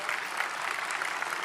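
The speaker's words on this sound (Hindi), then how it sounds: "जोरदार तालियों के साथ स्वागत कीजिए" Strong, steady applause from a large audience welcoming a guest at a major news summit event in India, dense clapping filling the hall without pause.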